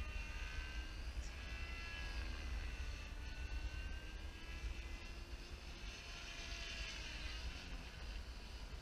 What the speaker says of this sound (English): I'm getting pretty comfortable with this helicopter.